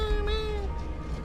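A cat in the video game Tales of the Neon Sea gives a single short, rising-and-falling meow, faint and distant over low background ambience.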